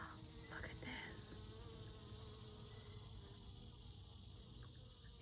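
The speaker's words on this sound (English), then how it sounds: "If you listen, you can hear the bees, all the pollinators" Bees and other pollinators buzz faintly and continuously in a butterfly garden, with soft overlapping drones over a low outdoor background.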